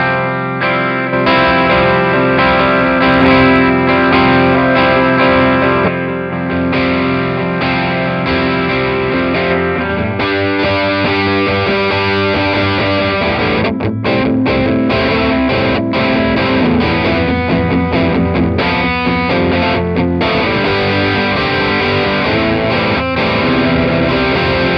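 A guitar is strummed hard through a Line 6 POD Go multi-effects unit, giving a dense, distorted, chorus-washed chord texture that rings on continuously with repeated strums for about 25 seconds, no voices present.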